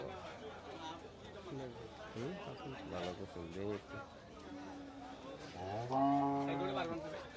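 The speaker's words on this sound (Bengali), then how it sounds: "গরু দেখাশোনা চলছে কুমিল্লা চান্দিনা হাটে" Cattle moo loudly and repeatedly at a busy livestock market in Chandina, Comilla, with several drawn-out calls close by over a steady crowd babble and people talking.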